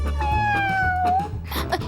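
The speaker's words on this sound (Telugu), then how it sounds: "తాగు పిల్లి, తాగు." A cat being offered imported liquor at a drinking party lets out one long, clear, falling meow over a low rumbling hum, followed by brief noisy bursts.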